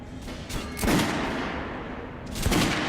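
Gunfire on a shooting range in Metro: Last Light Redux: a few sharp, loud shots ring out, with one burst near the start and another at the end, and reverberant tails between them.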